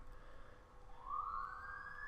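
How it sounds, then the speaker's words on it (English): Emergency siren sound effect from a Camtasia library, faint and noisy at first, then a rising wail that swells after about a second and holds steady and fairly quiet to the end. "You know, emergency sirens and things like that."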